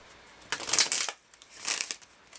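Oracle cards being shuffled in two short bursts of papery riffling and rustling, close and fairly quiet, with brief pauses between.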